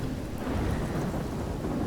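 A thunderstorm in the video game Life Is Strange, with dense steady rain and a deep continuous rumble of thunder, loud and enveloping, with no voices.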